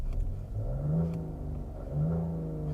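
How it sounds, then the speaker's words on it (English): A 2023 Nissan Rogue Platinum's turbocharged three-cylinder engine runs close by with a slightly raspy, humming idle. Its pitch swells upward and then settles twice, with no voices. "Start the vehicle up and you can hear, you probably won't even be able to tell it's a 3-cylinder, although I will say the idle is a little bit raspy"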